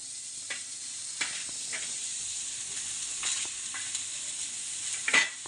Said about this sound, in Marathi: कांदा भाजून घ्यायचा